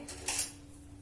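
A spoon scrapes and clinks against a pan while sweet wheat sev is stirred with homemade desi ghee, a few quick metallic taps close by and quiet.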